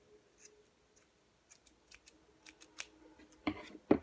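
Scissors snip yarn pieces off a pom-pom, a series of small crisp clicks and cuts spaced irregularly at first, then coming faster and louder toward the end, close and otherwise quiet.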